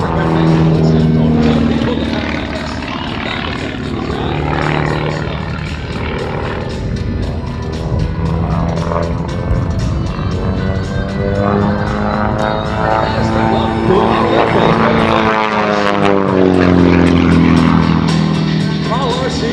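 A Pitts aerobatic propeller plane performs at the Manassas air show, its engine rising and falling in sweeping pitch changes as it passes, loud and continuous, with people talking nearby.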